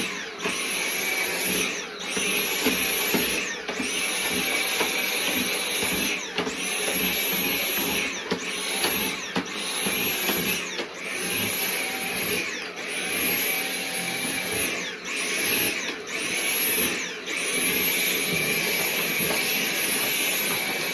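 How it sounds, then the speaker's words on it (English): Loud, continuous whine of a Bissell vacuum cleaner running at max suction, its pitch dipping and rising repeatedly as it is pushed back and forth. "So we can turn the vacuum up higher"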